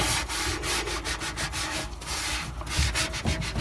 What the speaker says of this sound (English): all it's taking is a little bit of rubbing